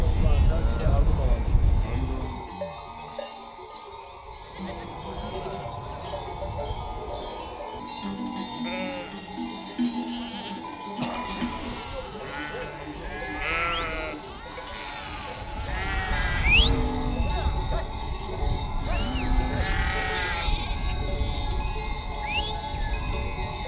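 Sheep bleat in a migrating flock, several wavering calls rising over outdoor rumble, with people talking throughout.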